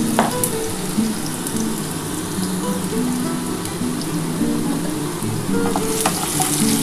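Potatoes sizzle and crackle steadily in hot oil in a home kitchen pan, with green chillies among the ingredients, a loud, continuous frying hiss with occasional sharper pops and no voices.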